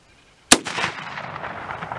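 A single 30-30 or 30-40 Krag rifle shot cracks out sharply after a brief silence, followed by a long, fading reverberating tail.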